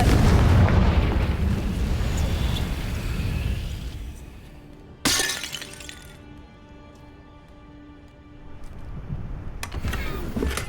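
Confringo fire spell explosion in Hogwarts Legacy, a big rumbling blast that fades over several seconds, followed by a sharp crackling burst and then another later, loud and close with a ringing decay.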